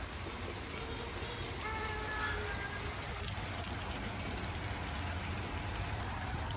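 Heavy rain pours down steadily, a dense continuous hiss of drops on surfaces with no break.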